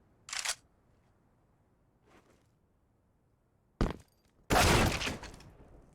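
Sharp Desert Eagle shots in Counter-Strike on Dust 2 ring out as a few separate loud cracks among faint clicks, the last blast trailing off into a brief echo.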